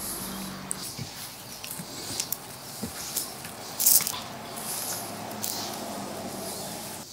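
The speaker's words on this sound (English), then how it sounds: "I want to get the coating on all sides of this pork" Pork belly pieces for burnt ends being turned and coated on all sides give quiet, close, wet squishing and sticky smacking sounds, irregular, with a few sharper bursts and no talking.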